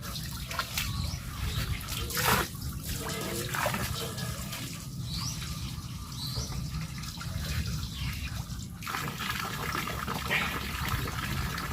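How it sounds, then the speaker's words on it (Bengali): Raw beef being rinsed and washed clean in water, a continuous splashing, running-water wash with sloshing and dripping, close and steady throughout. "মাংসটা খুব সুন্দরভাবে ধুয়ে নিছি পরিষ্কার করে"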